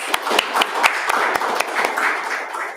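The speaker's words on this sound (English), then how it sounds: "Can we have a round of applause for her, please?" An audience at a React Native developer meetup claps for a speaker: a loose patter of individual hand claps, close and fairly loud, with no talking over it.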